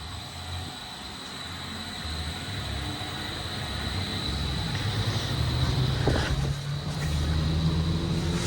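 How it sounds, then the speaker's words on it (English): A large dyno cooling fan roars in a steady, broad rush of air with a constant hum, growing slightly louder partway through, with no voices. "this is a real fan, not a little squirrel cage fan"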